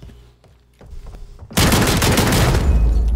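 Call of Duty Gunfight firefight: after a quiet stretch with a few faint clicks and taps, a dense roar of overlapping loud gunshots bursts in and holds steady to the end.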